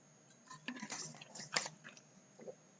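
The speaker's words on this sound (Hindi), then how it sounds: "एक बार मैं थोड़ा पानी पी लेता हूं" Someone takes a drink of water, with a few close, soft sips and swallows in quick bursts over a quiet background and no talking.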